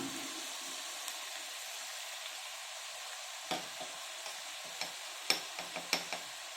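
Turmeric being stirred into a cauliflower cashew curry in a pan, with a soft steady sizzle under scattered clicks and scrapes of the spoon that grow more frequent toward the end.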